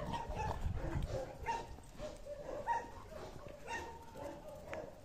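A laika and an alabai mix dogs play together on a walk at an animal shelter in Kyiv, giving off repeated yips, whimpers and short barks at moderate distance, with faint voices now and then.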